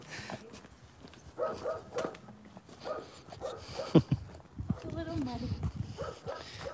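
Puppies barking outdoors on muddy ground in winter, short yips scattered across the moment and partly under people talking nearby, with footsteps.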